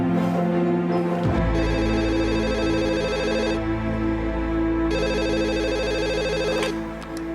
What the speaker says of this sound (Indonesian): Al, maafin saya telepon rumah kamu